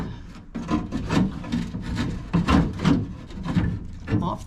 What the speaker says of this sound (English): And now you can take and slide the regulator